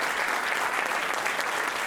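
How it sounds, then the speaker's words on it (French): An audience gives a steady, dense round of loud clapping that fills the room, continuous with no break and no clear voices above it. "On peut l'applaudir bien fort."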